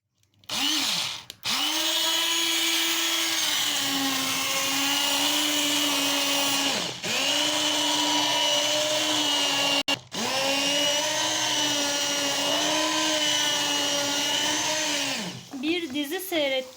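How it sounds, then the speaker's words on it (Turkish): A blender blending soup runs loud and steady for several seconds, its whirring pitch dipping briefly twice as it stops and restarts. "Blender'dan geçireceğim."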